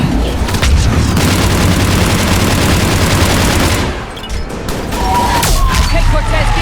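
Sustained heavy gunfire in Mass Effect 3, a dense, loud, continuous roar of automatic shots and booms that dips briefly before resuming, with voices mixed into the battle noise.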